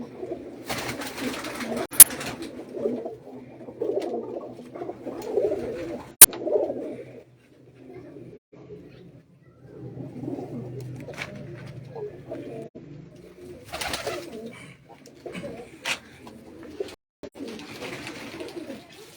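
Soft, low pigeon coos repeat through the stretch at a pigeon club in Mianwali, with occasional wing flutters and faint chatter in the background.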